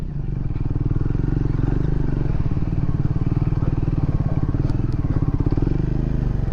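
Motorcycle engine running steadily close by while the rider eases the throttle gently, a continuous low pulsing rumble with faint clatter and no talk over it.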